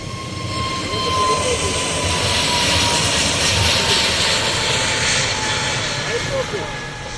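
An airplane taking off at an Indian airport, heard outdoors as a broad, sustained engine roar that swells and fades slightly, with voices of onlookers mixed in.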